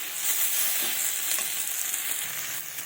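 Small fish cooking down with spinach in a pan give off a steady, close sizzle, with a few soft stirring scrapes and no talking.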